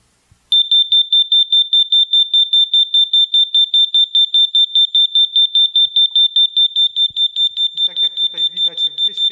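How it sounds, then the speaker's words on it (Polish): A piercing, high-pitched carbon monoxide detector alarm beeps rapidly and steadily, loud and close, with faint talking creeping in near the end. "jeżeli wyczuje tlenek węgla, załączy się, jest tak przeraźliwy dźwięk, że na pewno usłyszymy"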